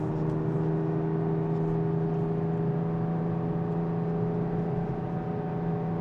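A Porsche 997 with a PSE exhaust holds a steady, loud engine drone in second gear at about 3,000 rpm, a constant throaty hum heard from inside the moving car with no rise or break.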